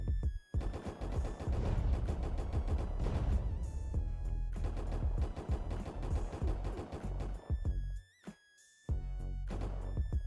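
Gunfire in GTA San Andreas, rapid and loud, with dense overlapping shots and crashes rattling almost continuously, broken by a brief near-silent gap before the shooting resumes.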